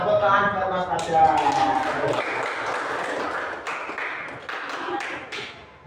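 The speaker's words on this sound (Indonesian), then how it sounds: "tepuk tangan buat Mas Fajar" A small group claps for a participant during a Qur'an recitation teaching session in a classroom, a short burst of crisp handclaps after a voice, close and moderately loud.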